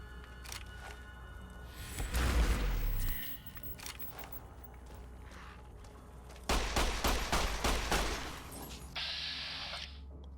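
Pistol gunshots in Fallout New Vegas, with a loud blast followed later by a quick series of sharp, evenly spaced shots at close range amid quieter ambient game sound.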